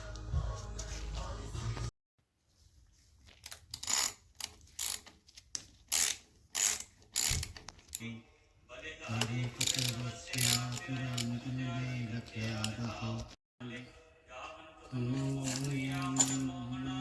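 Ratchet clicking in repeated bursts while undoing the exhaust clamps and wastegate clamp on a turbocharged 1997-2001 Honda Prelude, with short metallic mechanical clatter between pauses and no talk.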